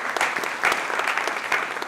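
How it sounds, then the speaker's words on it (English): A crowd at a community thanks event in Austin claps steadily in a continuous, fairly loud wash of hands for Earl Maxwell, with no talking over it. "let's give Earl a big round of applause"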